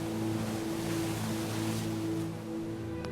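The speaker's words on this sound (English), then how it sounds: "the gentle waves of the ocean passing by" A steady, soft wash of ocean waves in a video game demo rolls on without pause, mixed with a low droning hum, even and continuous throughout.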